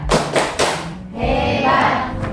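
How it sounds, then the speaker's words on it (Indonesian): A school class performs the 'tepuk hebat' rhythmic clap, a few quick, loud sets of hand claps in a short pattern, followed by voices chanting together. "Tepuk hebat dulu, maksudnya tepuk hebat"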